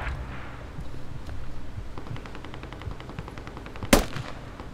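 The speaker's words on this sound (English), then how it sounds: "Oh, I got shot." Gunfire in the tactical shooter Squad: a steady distant rattle of automatic fire runs throughout, broken by one loud, close shot near the end.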